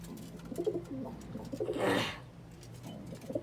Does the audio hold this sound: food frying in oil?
no